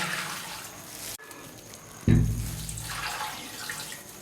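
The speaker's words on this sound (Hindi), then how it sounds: "इसके बाद हम 2 कप पानी डालेंगे।" Water pours steadily into a pot of lentils and meat, starting with a sudden splash and continuing as a running, gurgling flow.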